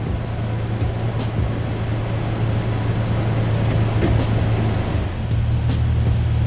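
A truck engine idles steadily and close, with a low constant hum and faint clicks while the front actuator engages four-wheel drive; the drone dips briefly near the end, then resumes.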